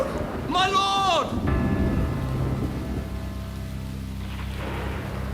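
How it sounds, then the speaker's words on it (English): A storm at sea lashing a boat, with heavy rain and a rumbling low roar, opening under a loud tonal cry or shout that fades into a sustained hum and dense rain noise. "The storm raged."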